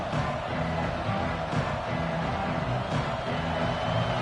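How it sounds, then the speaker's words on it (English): A dense, steady roar from a big football stadium crowd backing its defense, a continuous wash of noise without pauses. "Listen to this crowd just shaking the girders of this place, trying to help their defense."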